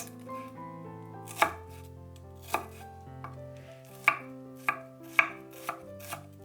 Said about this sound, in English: Mince a shallot.